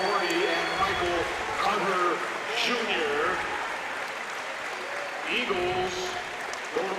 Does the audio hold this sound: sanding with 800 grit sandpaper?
no